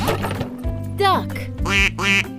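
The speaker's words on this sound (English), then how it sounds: "Duck." A duck quacks three times in quick nasal calls, fairly close, over steady background music after a brief spoken word.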